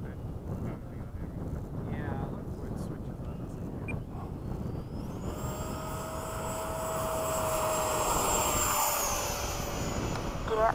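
F-5 jet engines roar during a sunset formation flight, a steady loud engine drone with wind rush that swells and adds a rising whine midway, heard from the cockpit with radio-style talk underneath.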